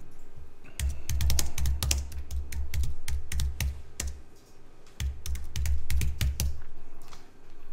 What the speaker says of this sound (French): Vous pouvez déjà taper un titre si vous voulez.